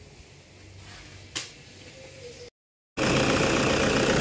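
Toyota Innova engine running after EGR cleaning, a steady mid-range hum with one brief sharp tick, then a short dropout before a much louder, closer burst of engine noise. No talking.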